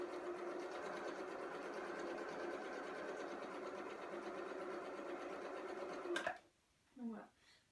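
A sewing machine stitches patchwork squares for a heart quilt block, running in a steady fast mechanical whir close by before stopping; a voice speaks briefly as it ends.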